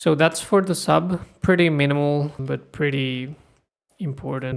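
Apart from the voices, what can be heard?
No distinct noise like a dog, phone or traffic.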